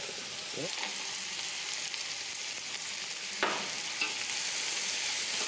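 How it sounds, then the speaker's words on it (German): Soft, steady sizzling of pumpkin and apple vegetables caramelizing in a pan on low heat, with a faint stir or scrape now and then; quiet and close, no voices. "man hört das Gericht karamellisiert ganz leicht vor sich hin"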